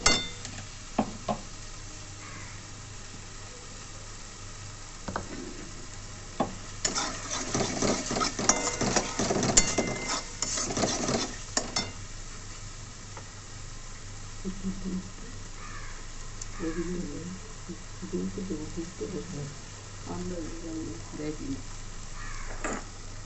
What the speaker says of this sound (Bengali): এটা ভালো করে কষে নিতে হবে